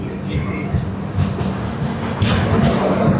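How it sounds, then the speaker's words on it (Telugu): Steady low rumble of the Tamil Nadu Express rolling along the rails after leaving Khammam, with rhythmic rattling and a louder surge near the end, continuous throughout. "ఇప్పుడే ట్రైన్ ఖమ్మం నుంచి స్టార్ట్ అయింది."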